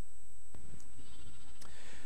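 A sheep with a tag in its ear bleats once, sharply and close, then a second bleat follows shortly after, with quiet background between the calls.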